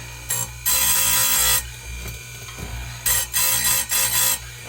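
A small handheld sharpener grinds a chainsaw chain, giving two long buzzing bursts with a shorter pause between and then a quick run of short grinding passes near the end, loud and close with no talk.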